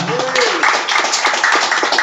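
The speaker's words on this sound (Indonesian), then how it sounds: "Tepuk tangan untuk kepala desa." A crowd bursts into applause, steady clapping from many hands filling the room, with a voice faintly audible underneath.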